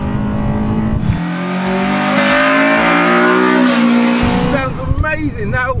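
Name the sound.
Honda Type R engine revving into VTEC, aftermarket intake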